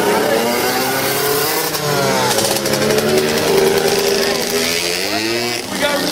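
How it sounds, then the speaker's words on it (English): A nitrous mini bike powered by a Harbor Freight small engine buzzes and revs, its raspy pitch rising and falling up close while people talk over the running motor. "It's a high-quality Harbor Freight motor. Yeah, it's nitrous."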